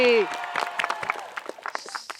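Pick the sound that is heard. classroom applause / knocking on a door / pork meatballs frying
classroom applause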